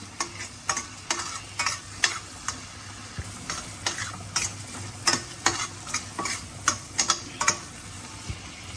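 Chicken with chilli flakes cooks in a pan for a creamy white sauce pasta, a continuous sizzle broken by regular clicking stirs and scrapes of a spoon, fairly close and with no talking.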